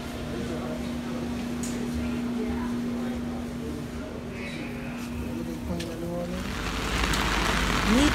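Steady rain falls around an open-air double-decker tour bus in New Orleans, a continuous broadband hiss that swells louder toward the end, with a low engine hum and voices talking faintly underneath.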